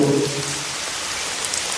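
Heavy cartoon rainfall, a dense hiss of drops that holds steady throughout after a brief tonal sound at the start.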